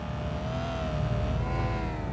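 Steady car engine revving in a lowered-car online driving game, a smooth sustained drone with slowly shifting pitch and no speech.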